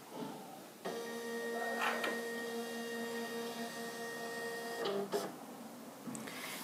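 A Silhouette Cameo cutting plotter powers on with a steady motorized whir and layered tonal hum, broken by a couple of brief clicks or knocks near the end as the carriage moves to its starting position; no one speaks.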